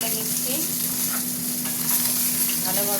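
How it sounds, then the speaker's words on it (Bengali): Bhola fish pieces frying in oil in a wok, a dense, even sizzle and crackle that holds steady at close range with faint stirring, no talk. "ভালোভাবে ভাজা হয়ে গেল সব মাছগুলো।"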